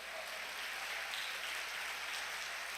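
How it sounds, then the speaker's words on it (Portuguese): Church congregation applauding, a dense, even wash of clapping heard at a moderate distance, steady throughout. "Diga amém e dê um aplauso ao Senhor"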